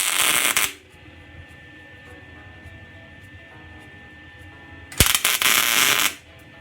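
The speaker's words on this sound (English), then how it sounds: "I'm going to put one tack weld between each." Two bursts of tack welding on a small scrap metal keychain, each a loud crackling hiss lasting about a second, separated by a long quiet stretch of low hum.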